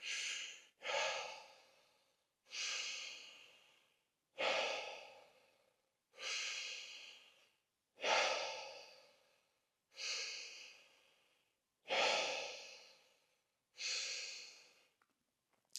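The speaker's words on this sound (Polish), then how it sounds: "Najpierw 20 wolnych, wdech, wydech, spokojnie takie." Slow, deep breaths in and out, about nine even cycles, each a long airy whoosh followed by a short pause, close and clear.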